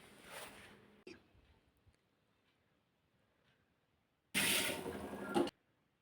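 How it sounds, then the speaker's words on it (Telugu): Water poured into a vessel of washed horse gram: a short splash at the start, then quiet, then a second loud rush of pouring lasting about a second, close by. "కడుక్కున్న ఉలవలలో 5 కప్స్ వాటర్‌ని పొయ్యండి."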